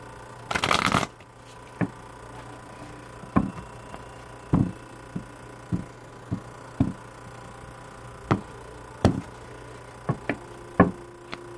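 A tarot deck gets one quick riffling shuffle up close, followed by a series of sharp, separate taps and snaps as individual cards are pulled and laid down at uneven intervals in a quiet room.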